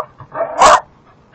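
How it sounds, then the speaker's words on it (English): A dog barks once, sharp and loud, at a possum in the yard, preceded by a short whiny yelp; close and alone. "And there's my crazy dog."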